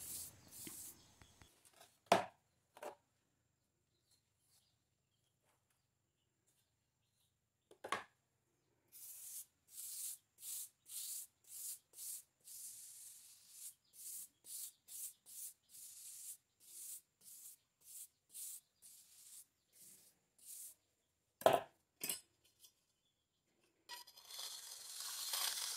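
Scraping and rubbing of a tool trimming and smoothing the bottom of a handmade cement vase, a few isolated strokes followed by a steady run of short rhythmic scrapes, close but fairly quiet.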